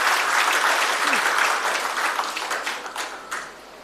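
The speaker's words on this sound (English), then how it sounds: "A round of applause to all our presenters" An audience at an agricultural research forum applauds the presenters, dense sustained clapping that starts full and gradually thins and fades toward the end, leaving a few scattered claps.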